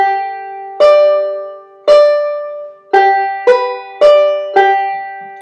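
Single plucked notes on a stringed instrument pick out a Lonesome Road Blues phrase, six bright ringing plucks at an unhurried pace, each decaying before the next, close and alone.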